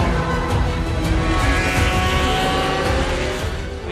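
A Porsche 911 RSR race car at the Fuji WEC race, its loud engine roaring steadily and close with a sustained high-revving drone and slight pitch shifts.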